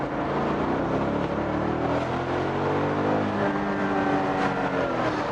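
A 400 hp BMW Z8 pulls hard in second gear, its engine note rising steadily and loudly from inside the cabin with a dense, continuous roar and no pauses.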